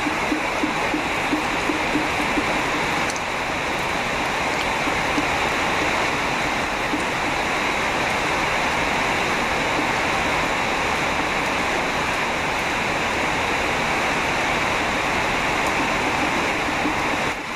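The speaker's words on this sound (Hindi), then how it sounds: "आप लोग साउंड सुनिएगा पीछे का जो कि बारिश का आ रहा है और बादल का भी आ रहा साथ में।" Heavy rain pours down in a steady, dense hiss that sounds like rushing water, loud and unbroken throughout with no voices.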